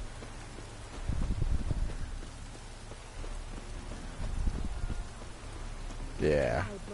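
Steady rainfall in the Witcher 3 video game, a continuous hiss with a couple of low thuds, and a short voiced sound near the end.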